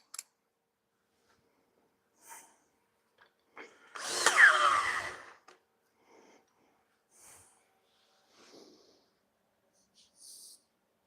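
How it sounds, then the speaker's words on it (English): A power drill set to drill mode at speed 2 whirs in one short, moderately loud burst of about a second and a half. Faint scattered handling noises come before and after it in an otherwise quiet room. "Speed 2, by the way. Oh wait, there, it's in drill mode."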